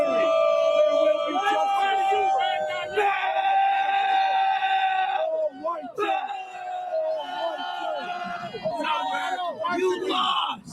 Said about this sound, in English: tensions boiled over outside the courthouse yesterday with dueling crowds on both sides making their voices heard